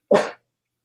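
A single short, close sneeze bursts out once and stops abruptly, loud and isolated against silence during a live show about LEGO bricks.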